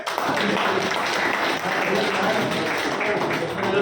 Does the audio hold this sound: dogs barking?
no